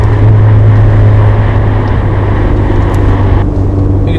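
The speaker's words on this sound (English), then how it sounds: "You can't ever get wrong with the supercharger whine." A car with about 100,000 miles on it runs with a supercharger building boost. A loud, close, sustained mechanical whine rides over a steady engine drone for the whole stretch, with no speech.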